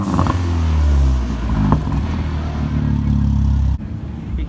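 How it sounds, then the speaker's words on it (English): Josh's car revs hard at a Greensboro street car cruise, loud and close, with the engine climbing and falling in rising harmonic sweeps before cutting off abruptly near the end. "we're gonna get Josh to rev his car"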